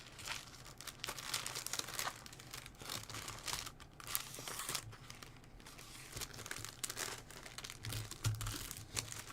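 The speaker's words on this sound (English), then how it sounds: "I can put them back in the resealable bag now for their protection" Plastic model kit parts go back into a resealable plastic bag, producing quiet, continuous crinkling and rustling of thin plastic with small crackles.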